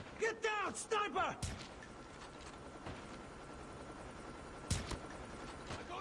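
Gunfire in the Call of Duty Mobile video game: bursts of shots over game voice lines and effects, with a loud crack near the start and another later amid steady background noise.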